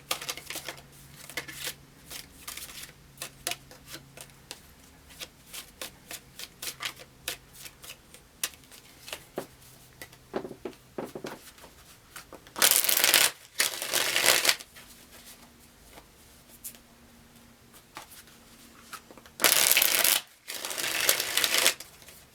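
Tarot card shuffling goes on at length: many quick riffling clicks and flutters, with a few louder bursts as the deck is bridged and squared.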